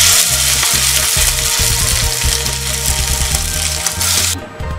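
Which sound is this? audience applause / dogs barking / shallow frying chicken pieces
shallow frying chicken pieces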